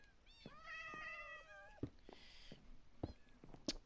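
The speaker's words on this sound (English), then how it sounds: "I have built somewhat of a cat tower slash cat area over here. There are like 30 cats over here." A crowd of around thirty cats piled into a corner of a video game cat tower area meows over and over, with overlapping drawn-out cries followed by a few short, sharper mews.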